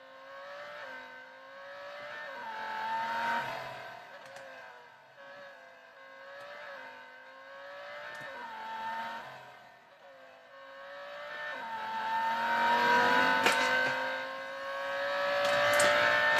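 A Lamborghini Huracan R3 Spec in the racing game Real Racing 3 revs through repeated rising gear pulls, its engine note climbing and dropping in clear shift cycles before a louder, harder acceleration near the end, with no talk over it.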